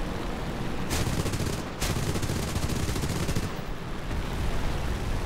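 A Mitsubishi Zero's aircraft machine guns firing in War Thunder, two rapid bursts of dense rattling shots, the second one longer, over a constant loud engine roar.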